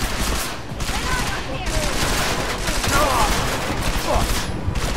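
Sustained gunfire in the video game Deus Ex: Mankind Divided, a dense, continuous barrage of loud shots with bursts close together throughout, over a bed of battle noise.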